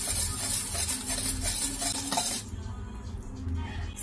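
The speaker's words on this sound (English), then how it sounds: "I'm going to use my whisk to mix well." A whisk beats yeast into warm milk for homemade glazed donuts, making a steady, close, brisk scraping swish for about two seconds before it drops to softer, lighter stirring.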